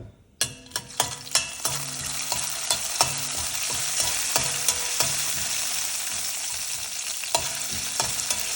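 Cumin, mustard seeds and dried vadiyam frying in hot oil for an okra curry tempering, a constant close sizzle broken by sharp spoon clinks and stirring taps, busy at first then settling into a steady crackle.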